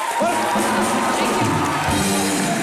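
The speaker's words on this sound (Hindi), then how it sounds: "दीपिका, दोनों के लिए जोरदार तालियां हो जाए।" A studio audience at a Hindi TV comedy show, Comedy Nights With Kapil, breaks into dense, loud applause and cheering with whoops, a continuous roar across the whole moment.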